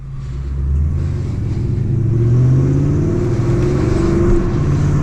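A 550 hp Mercedes CLS 55 AMG engine revving under acceleration while driving in manual mode, a loud deep rumble rising in pitch as the car pulls, heard from inside the cabin.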